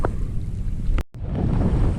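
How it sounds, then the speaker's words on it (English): Gusty wind buffets the microphone with a heavy, continuous roar while pedal kayaking on a lake cove in choppy water, and a brief dropout breaks it midway. "I'd say it's gusting to 20 to 25."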